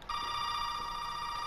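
A telephone rings in a house in Resident Evil 7, one steady electronic bell tone that starts abruptly and holds, fairly faint and alone.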